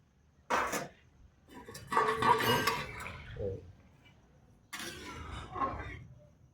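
Bursts of clattering and scraping as about 250-300 grams of green peas are stirred in a cooking pot, three separate rustling spells with quiet gaps between, close by.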